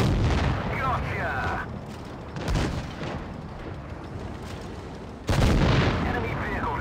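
A World of Tanks Blitz tank cannon destroying an enemy vehicle booms loudly several times, with heavy blasts near the start, the middle and late on, and talk mixed over the rumble.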